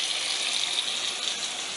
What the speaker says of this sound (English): We're refilling the sink with more cold water.